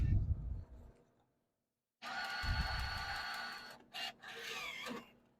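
A slot machine's ticket printer feeds ticket paper on a Double Triple Diamond Deluxe machine. It gives a steady mechanical whir of about two seconds, then a short separate burst and a final whirring run, close by, with no talk.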